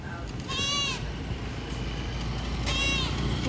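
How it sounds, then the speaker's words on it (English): Goat at a busy market in the Philippines giving two loud, drawn-out bleats, one early and one near the end, over steady crowd and traffic noise. "Such a loud goat."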